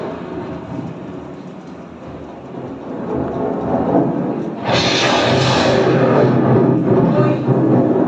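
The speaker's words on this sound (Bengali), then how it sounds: "ওই এলো ঝড়, ঝড় এলো, ওই এলো ঝড়, ঝড় এলো।" A storm effect for a Bengali radio play rises from a low rumbling wash of rain into a loud crash of thunder and hissing downpour, continuing heavily to the end.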